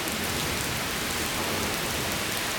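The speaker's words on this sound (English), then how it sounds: "You can see and this rain, guys, is very intense." Heavy, steady rain pours down hard during a severe thunderstorm, a dense unbroken hiss that fills the whole stretch with no pauses and no thunder.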